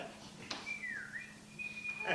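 A person whistles one faint, sustained note that dips and rises in pitch, with soft background noise.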